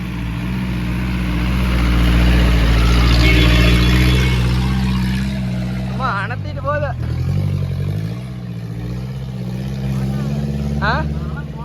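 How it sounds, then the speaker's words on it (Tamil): Two vehicles climb a hill road at Palamalai Siddheshwaran hill, their engines a loud, steady low drone throughout, with people talking nearby. "ரெண்டு வண்டி எப்படி ஏறுதுன்னு மட்டும் பாருங்க"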